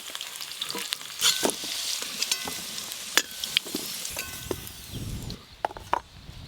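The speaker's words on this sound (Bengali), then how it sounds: "আলুগুলো একদম লাল লাল করে ভাজা হয়ে গেছে" Potatoes deep-frying in oil until reddish-brown give a steady, close, bright sizzle, broken by scattered utensil clinks and stirring scrapes throughout.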